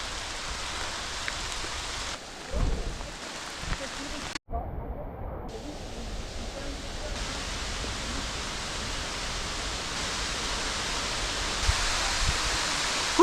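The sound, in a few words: heavy rain in a forest during a storm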